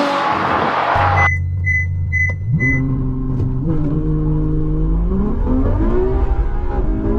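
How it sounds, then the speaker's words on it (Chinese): A Ferrari F12 sports car with a 6.3-litre naturally aspirated V12 and seven-speed dual-clutch gearbox launches hard toward 100 km/h. The loud, close engine note climbs through rising gear pulls with brief shift dips, steady and alone. "测下百公里加速。"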